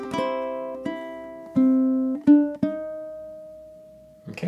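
A few strummed ukulele chords from the last measure of Scott Joplin's The Entertainer ring out up close, spaced unevenly, the last chord left to sustain and fade before a soft rustle.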